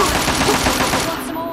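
Rapid automatic gunfire in the video game Fallout 3, a dense loud burst of rattling shots that runs nearly continuously before trailing off.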